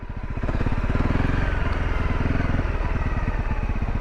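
A 2018 Honda CRF250L single-cylinder motorcycle thumps steadily at close range on a test ride, its fast, even exhaust pulses holding a constant loud beat after a brief quieter start.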